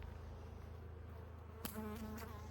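A steady, close buzz of many honeybees humming together on a brood frame during a hive inspection, with a brief scrape partway through and the droning continuing after it.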